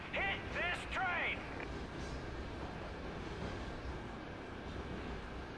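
A moving train in the video game Call of Duty Ghosts, a steady rumbling roar of rolling rail noise that continues evenly, with speech over it at the start.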